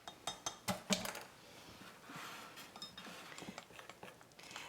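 A spoon stirs a thin lemon juice and milk glaze in a bowl, opening with a quick run of light clinks against the bowl and then settling into softer, steady mixing strokes.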